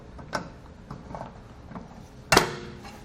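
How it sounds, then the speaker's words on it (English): Hand ratchet turning a bolt on a vehicle shock absorber mount, a few soft mechanical clicks at close range followed by a sharper metallic clunk, quiet and without talking. "Just take your ratchet and turn the head of the bolt."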